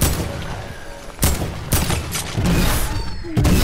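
Video game gunfire crackles in several sharp bursts over a constant busy background, with loud shots clustered near the middle and end.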